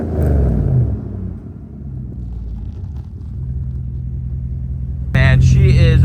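A Mercedes W140 S500 with a hard-shifting transmission and cooling system issues idles with a steady, low rumbling hum. It is joined near the end by a louder burst of what sounds like music.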